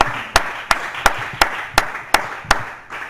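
Slow, evenly spaced single claps at a church service, about eight sharp hits roughly every third of a second, near and moderately loud over a faint room background.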